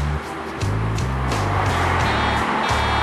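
A Ferrari 458 Spider idles and creeps along in slow city traffic, its engine a steady close rumble with a faint rise partway through, mixed with surrounding road noise and no talking.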